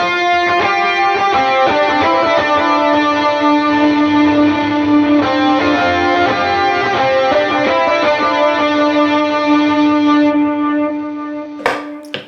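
Lead electric guitar with drive, dotted-eighth delay, plate reverb, chorus and a lower octave effect plays a steady, sustained melodic line for the whole stretch, loud and alone, with a brief scrape at the very end.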